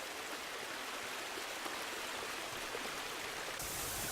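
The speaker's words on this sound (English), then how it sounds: "Meltwater channeled down from high on these ice caps pours over a precipice where the ice meets the ocean." Meltwater off an Arctic ice cap pours over a precipice into the sea as a dense, steady roar of falling water, loud and unbroken from start to finish.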